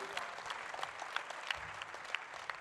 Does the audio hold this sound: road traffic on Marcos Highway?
no